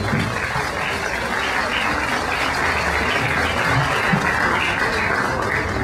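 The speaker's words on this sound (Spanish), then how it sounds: "demos un aplauso" Audience applause at the closing of an academic colloquium on Indigenous identity, languages and culture in Mexico, welcoming a professor to the stage; steady, dense clapping fills the room without pause, with faint murmuring underneath.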